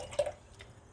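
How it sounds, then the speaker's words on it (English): A paintbrush swished and rinsed in a water jar, giving a quick soft splash and a couple of light drips, close and faint, with no one talking. "really like the way the brush sounds in the water"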